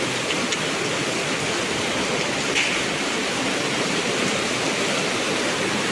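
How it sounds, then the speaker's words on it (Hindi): Heavy rain pours down outside a home in a dense, unbroken hiss that stays loud and even from start to finish, with no talking. "धीमी थी बरसात, और अब एकदम से देखिए कितनी तेज़ हो गई।"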